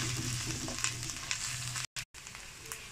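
Bitter gourd peels fry in a pan with a close, even sizzle and light crackle throughout, cut by a brief dropout near the end.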